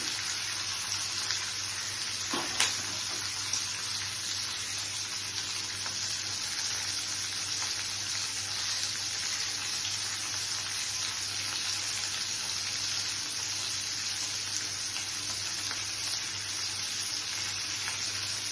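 Paneer with tomatoes frying in a pan makes a steady, even sizzle that runs unbroken throughout, with a couple of faint clinks near the start and no talking.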